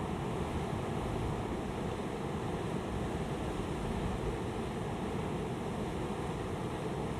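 Large waves wash against the wild Scottish coast in an unbroken, moderately loud surf rumble, mixed with a constant wind hiss.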